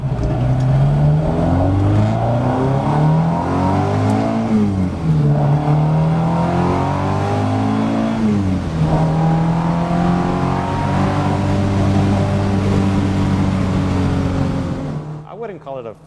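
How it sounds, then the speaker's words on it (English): Alfa Romeo Giulia street-legal race car fitted with big 45mm Weber carburetors and MSD ignition, its engine revving loudly and steadily with rising and falling pitch sweeps, close up, before cutting off near the end. "It's basically a street legal race car, so it's not the most comfortable, it's not quiet."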